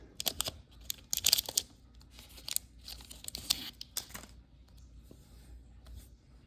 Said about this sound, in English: I always rip it from the back side